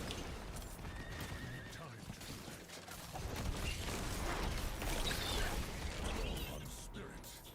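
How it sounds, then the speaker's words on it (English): A horse in a Stormclaw-build video game whinnies and clip-clops, the neigh standing out early and hoofbeats and gear rattling throughout, loud and busy amid other game sounds. "let me get back on my horse."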